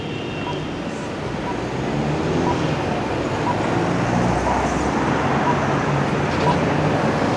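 Steady roadway rumble of buses moving through town traffic in Ireland, a dense continuous low engine drone that swells slightly partway through, with no distinct voices over it.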